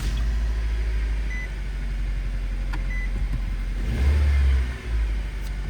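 A 2013 Nissan Sentra with a rough idle, its engine starting up and then settling into a steady low rumble with a slight surge near the end, close and continuous with no talking.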